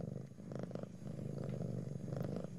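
A cat purrs inside the horror game I'm On Observation Duty, a steady low rumbling drone with soft rhythmic pulses that carries on throughout at moderate loudness, with no talking.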